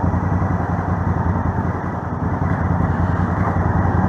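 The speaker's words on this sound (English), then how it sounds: "one thing about having a low compression bike built for world gas is sure started up easy" A Honda Africa Twin motorcycle engine, low compression and built for world fuel, runs in a steady loud low rumble close by, with no voices over it.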